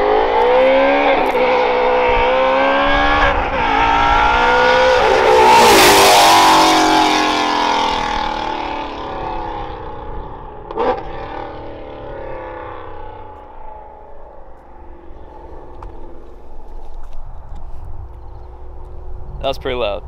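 A loud Ford Mustang GT350 fitted with long-tube headers, a Corsa mid pipe and factory mufflers roars past at speed, the engine note rising and then fading away, while people talk and shout over it.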